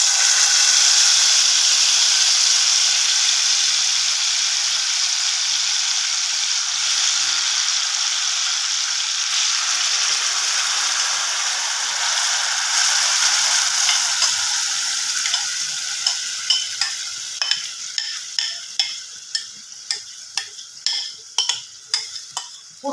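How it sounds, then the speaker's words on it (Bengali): Chicken gravy for an Afghani-style chicken dish hisses and sizzles loudly in a hot wok, a steady steamy fry that turns into rhythmic scraping clacks of a spoon stirring near the end. "গ্রেভিটা আমি এর মধ্যে দিয়ে দিলাম এবার এটাকে একটু নাড়াচাড়া করে নেব"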